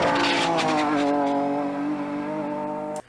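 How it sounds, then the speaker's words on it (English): A car passes close by, its exhaust note rising to a strong, steady drone with harmonics that gradually fall in pitch as it moves away, then cuts off abruptly. "we hear the sound coming out of the exhaust"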